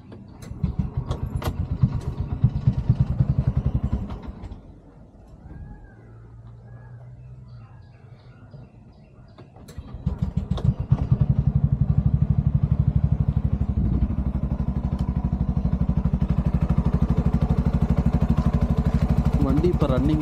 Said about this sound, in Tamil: ஸ்டார்ட் பண்ணுறேன், இன்ஜின் நோட்டை கேளுங்க.